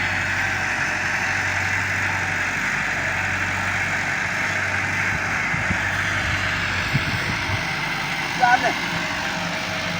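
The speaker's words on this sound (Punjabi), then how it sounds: "ਟਰੈਕਟਰ ਵਾਲਾ ਜਿਹੜਾ ਹੈ ਉਹ ਡਿਸਕਾ ਮਾਰ ਰਿਹਾ ਹੈ" Steady low engine drone of a tractor pulling a disc harrow across a field, continuous and moderately loud, with a few faint knocks near the end.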